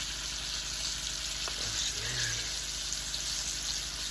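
A whole turkey deep-frying in hot oil and crisping up, giving a steady, even sizzle with one soft clunk partway through, no talking.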